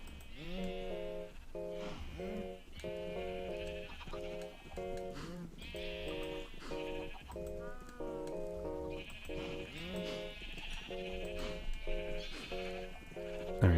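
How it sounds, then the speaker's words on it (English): Sheep bleat in the Minecraft video game, a series of repeated nasal baas overlapping in quick succession from several animals, steady and moderately loud over faint background music. "Alright, so I'll make some more sheep really quick."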